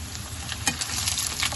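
Potato slices frying in hot oil make a steady, soft crackling sizzle with small pops, close by and alone.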